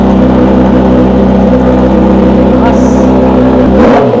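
A Kawasaki ZX6R motorcycle engine held at a high, steady rev during a sound check, loud and close, then dropping off sharply near the end.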